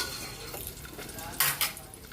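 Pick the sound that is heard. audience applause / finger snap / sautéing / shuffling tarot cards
sautéing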